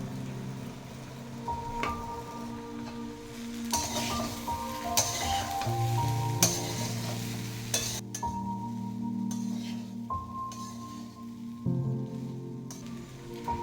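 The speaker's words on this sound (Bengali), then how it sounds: "ভাজতে থাকবো।" Sabudana khichdi of soaked tapioca pearls and potato stirred and fried in a pan, a steady close sizzle broken by scraping strokes of a spoon, with no talk over it.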